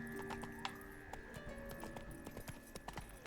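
Hooves of a horse trotting in The Witcher video game, a quiet, regular clip-clop in a steady rhythm with a brief whinny-like tone, set against faint game ambience.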